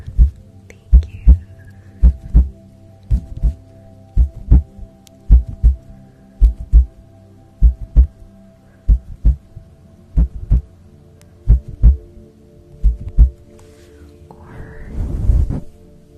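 Amplified heartbeat in an ASMR live stream, about a dozen steady lub-dub double thumps, deep and close, running alone until a brief muffled rustle at the end.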